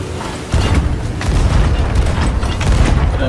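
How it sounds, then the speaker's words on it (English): Ship cannons fire during a Sea of Thieves naval battle, a loud booming blast that rolls into sustained deep rumbling explosions, close and heavy. "Bunda, be on cannons. Straightened out, shoot"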